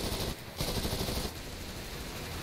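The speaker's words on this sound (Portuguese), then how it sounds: "Olha o som das MGs aqui do T-80." Machine guns on a T-80 tank in War Thunder fire in dense, continuous bursts heard from inside the tank, with a brief drop midway before the rattling gunfire resumes at a steady level.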